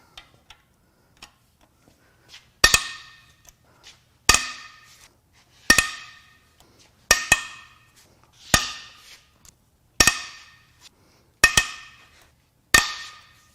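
Cylinder head bolts on a catastrophically overheated 2022 Audi S5 3.0 being broken loose, giving eight loud, sharp cracks about 1.5 seconds apart, each with a short ringing metallic tail, close up with no talking.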